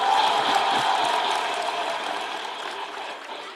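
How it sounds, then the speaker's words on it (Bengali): Loud applause from a packed audience rolls on continuously, a thick patter of many hands that slowly fades toward the end. "ইমোশনসের জন্য বটে জোরে হাততালি।"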